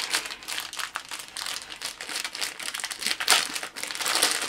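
Paper packaging from a mailed parcel crinkles and rustles as it is opened by hand, a busy, close series of crackling crunches with short irregular bursts throughout.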